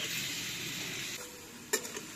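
Pointed gourd fries with green chillies in a pan on a clay stove, giving a steady close sizzle followed by a brief clink of a utensil.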